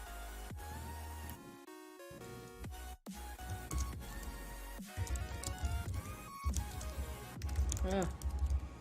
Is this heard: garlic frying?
no